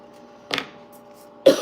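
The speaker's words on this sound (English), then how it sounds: "it's not smoking that's making me cough" Two short, sharp coughs about a second apart, the second slightly louder, from a person with a piece of pretzel caught in the throat, heard close and alone against a quiet room.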